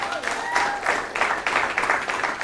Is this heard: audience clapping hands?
yes